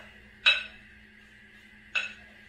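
Two separate clinks of a utensil against a bowl while a watermelon, feta and mint salad is mixed, each a short bright tap with a brief ring, quiet in between.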